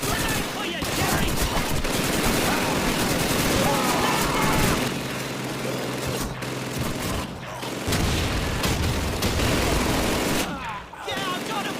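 Dense battle din from Call of Duty 2 on a desert docks map: rapid continuous gunfire and machine-gun bursts with booming grenade blasts, loud and sustained for the whole stretch, with in-game soldiers shouting beneath the shooting.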